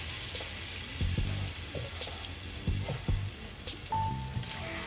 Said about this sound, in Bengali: তো তেলে আমি এখন আস্তে আস্তে সবগুলো দিয়ে নিচ্ছি